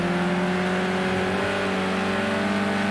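Renault race car in the 2022 Virtual Racing Indianapolis video game, its engine revving steadily with a strong tonal drone held close and loud for the whole stretch, no voices over it.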